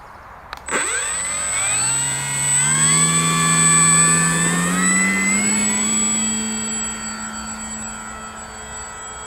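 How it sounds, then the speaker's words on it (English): A big plane's jet engines pass at an airfield, rising from a sharp onset into a loud sustained roar with whining tones that shift in pitch as it goes by, close and powerful. "It's a big old plane, and you can actually feel that coming across"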